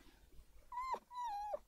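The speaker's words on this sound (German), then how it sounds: "So ein großer Hund und so schreckhaft." A jumpy large dog in The Sims 4 gives two short whimpers, whiny rising-and-falling cries in quick succession against a quiet background.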